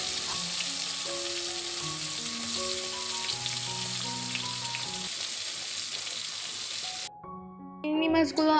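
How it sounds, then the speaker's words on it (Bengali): Shrimp coated in salt and turmeric fry in hot mustard oil with a dense, crackling sizzle close up for most of the time. It stops abruptly, and brief other noises follow. "চিংড়ি মাছগুলো আমি বেশ কিছু সময় ধরে নিয়ে ভেজে নিচ্ছিলাম"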